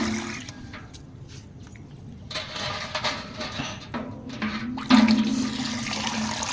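Chlorine-free borewell water pours and splashes into a container of sour buttermilk, a continuous close gurgling stream that grows louder toward the end.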